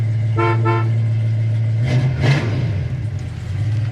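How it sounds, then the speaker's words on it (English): Horn of a 1966 Ford Mustang coupe with a black vinyl top gives two short, close, loud toots, followed by a rougher rumbling burst of engine and vehicle noise. "It does have a horn button over here, Dalton."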